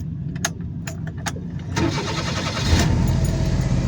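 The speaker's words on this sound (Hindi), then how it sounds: "ब्रेक प्रेस करके गाड़ी स्टार्ट करनी है" A car engine is started with the brake held: ticks and clicks from the ignition come first, then the starter cranks and the motor catches into a loud, steady idle close by.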